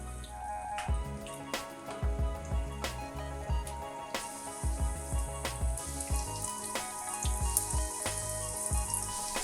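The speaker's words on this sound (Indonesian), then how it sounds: "goreng secukupnya cireng dengan menggunakan api" Cireng, Indonesian tapioca snacks stuffed with spicy intestine, frying in oil over low heat, with a soft continuous sizzle broken by scattered crackles and pops.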